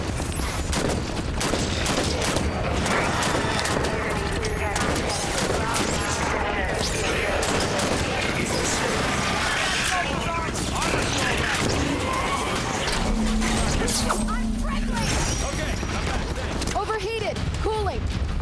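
Turret gunfire rattles in a Halo video game battle against Prometheans, with dense rapid bursts of automatic shots and booms running throughout while voices speak over the fighting.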